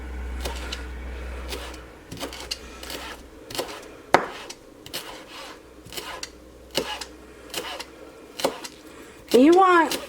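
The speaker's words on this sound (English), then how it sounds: "I'm just going to chop up this cilantro" A knife chops fresh cilantro on a cutting board in repeated close, crisp strokes, irregular in rhythm, with a brief scraping sound at the end.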